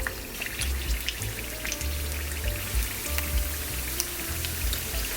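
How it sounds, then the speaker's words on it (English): Cheese-filled chili egg rolls deep fry in hot oil, giving a steady, moderately quiet crackle of fine popping bubbles with scattered sharper spits throughout. "Now all that's left to do is to deep fry them."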